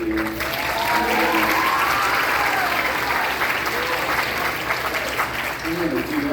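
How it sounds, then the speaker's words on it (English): Audience at a middle school recognition concert applauds in a loud, sustained round of clapping, with crowd noise and a voice speaking over it near the start and end. "Round of applause for those."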